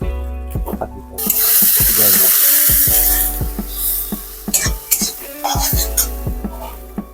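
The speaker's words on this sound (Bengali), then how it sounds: "কিছুক্ষণ এভাবে মশলা কষিয়ে নেব" Spices with ginger paste, turmeric and chilli powder sizzle and stir-fry in a pan for a crab curry, a steady hiss broken by repeated scraping clinks of a spatula, loud and close with no talk.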